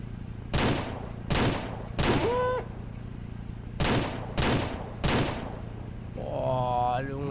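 Six sharp gunshots from Ranch Simulator, a PC farming game, fire in two groups of three, spaced roughly half a second apart. They are loud and close over a steady low background hum, and an animal-like bleat comes in near the end.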